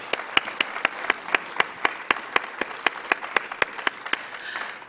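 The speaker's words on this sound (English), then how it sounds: "Let's give them another round of applause." An audience applauds after a provincial election debate on the financial services sector, a fairly close, steady round of clapping with distinct regular claps standing out above the crowd's wash of hands.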